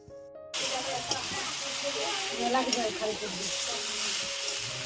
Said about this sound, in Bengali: আমি এবার মাংসটাকে আস্তে আস্তে কষিয়ে নেব ভালোভাবে মিশিয়ে নেব মশলাটা